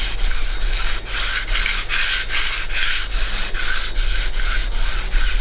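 Steady rhythmic hand sanding with 120-grit abrasive inside a classic Fiat 500 engine cylinder head port, shaping the short side radius; close, continuous scraping strokes repeating about twice per second, with no voices.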